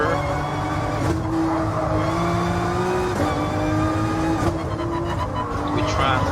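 Race car engine in GT Sport, played with a wheel, revving through a turn with rising and falling pitch and a few gear shifts, loud and up front, with a voice talking over it.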